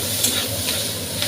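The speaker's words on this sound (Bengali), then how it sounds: "এর মধ্যে দিয়ে দিচ্ছি কুচানো পেঁয়াজ।" Chopped onion sizzles in hot oil in a Bengali home kitchen, a close, steady frying hiss with light stirring clicks for just over a second.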